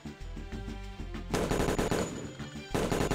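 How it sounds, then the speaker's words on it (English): A BMP-3's 30mm autocannon fires in World of Guns, with rapid bursts of sharp, heavy shots in quick succession, loud and close and heard alone. "that just fires the 30mm again"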